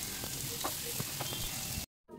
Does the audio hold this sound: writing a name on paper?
no